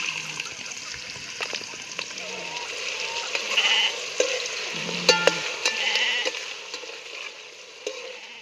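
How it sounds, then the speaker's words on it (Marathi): Onions frying in oil with whole spices for mutton sukka, a steady sizzle with spoon stirs and scrapes in the pan, while goats or sheep bleat faintly in the background. "तर आता कांदा चांगला तळून घेतलाय मी लाल"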